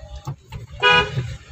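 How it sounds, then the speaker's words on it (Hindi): A car horn honks once in a short, bright toot, close by, amid low traffic rumble and a couple of fainter tones before it. "हॉर्न"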